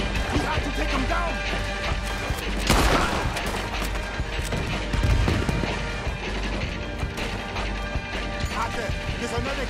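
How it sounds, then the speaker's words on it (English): Gunfire in a Red Dead Redemption 2 battle scene, with sharp shots and crashes rising over dense, constant game noise and music, most prominent around the third and fifth seconds, with voices in the mix. "He's shooting!"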